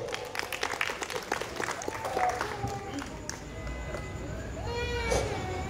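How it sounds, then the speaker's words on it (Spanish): Guests at a 50th wedding anniversary ceremony clap in a brisk burst of applause, dense at first then thinning, while voices and shouts rise over it and a whistle-like tone warbles near the end. "Venga, el aplauso fuerte."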